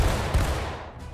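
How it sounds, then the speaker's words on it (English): Battle reenactment volley of rifle fire, a loud close blast that opens the clip and then rumbles away, with a second heavy report shortly after. "Take aim. Right at that group with the flag. Right at that Dixie flag. Fire."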